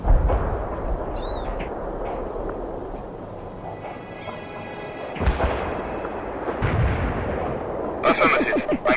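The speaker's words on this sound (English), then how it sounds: "Artillery, barrage are firing for effect" Artillery barrage in the video game World in Conflict, with heavy booming impacts rolling through a busy battlefield soundscape, a few sharp bursts standing out and dense rattling noise near the end.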